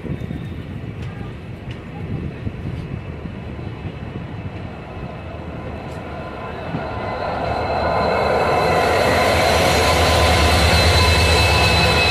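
A train hauled by a WDG-4D diesel locomotive rumbles nearby, its heavy engine roar swelling louder and brighter as it approaches and passes, a deep continuous drone throughout.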